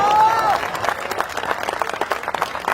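Audience applause at a Hindi hasya kavi sammelan comedy poetry show, a dense wash of clapping running steadily throughout, with some voices and a brief whistle-like tone near the start.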